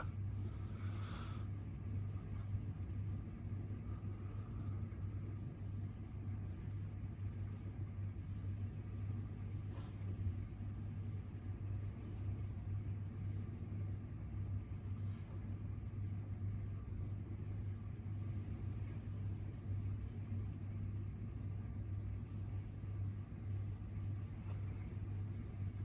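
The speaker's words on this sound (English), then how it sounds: "There are cars driving through" Road traffic passing along a road hidden behind trees near the Sacred Way of the Ming Tombs, heard as a steady, distant low rumble of car engines that runs continuously throughout with no talk.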